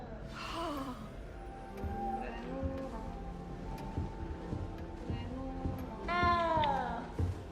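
A cat in a video game meows in a few drawn-out, tonal cries, one near the start and a louder wavering one near the end, over quiet game ambience and soft breathy sounds.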